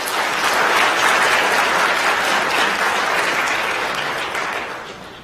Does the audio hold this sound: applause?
yes